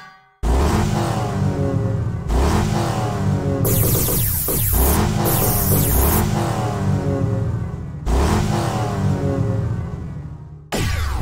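A high-revving V10 sports car engine in Need for Speed: Hot Pursuit 2 screams past 8,000 RPM through repeated upshifts, each rev climbing and dropping sharply, loud and close with brief whooshes between gears.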